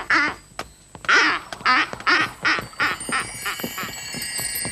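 A duckling in a children's cartoon quacks in a quick series of bright, close calls, about eight short bursts in a row over a faint background.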